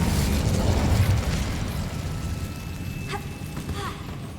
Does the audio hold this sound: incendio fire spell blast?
yes